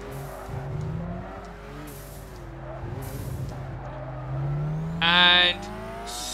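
A race car engine in Gran Turismo 6 rises and falls in pitch as the car slides through a corner. A sharp burst of tire squeal cuts in near the end.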